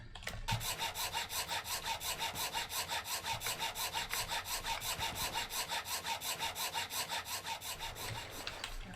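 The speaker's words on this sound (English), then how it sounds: "Hacksaw." A hacksaw sawing in the video game Cataclysm: Shipwrecked, a steady rapid back-and-forth rasp of even rhythmic strokes repeating continuously, close and clear with no voices.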